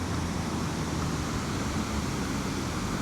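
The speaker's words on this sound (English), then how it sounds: "You can probably hear the waterfall in the background." A steady, even rush of falling water from the waterfall at Indian Leap in Norwich, Connecticut fills the background, constant and moderately distant, with no other sounds.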